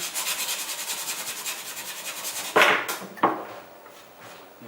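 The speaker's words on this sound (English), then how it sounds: "Probably might wanna sand this thing just a bit." Sandpaper rubbing along a handmade wooden sword, a quick run of rhythmic back-and-forth strokes followed by two sharper, separate scrapes, close and fairly quiet with no speech.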